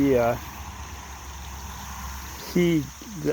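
A creek runs over rocks beside a forming sandbar, giving a steady low wash of flowing water throughout, with a voice speaking briefly near the start and again near the end.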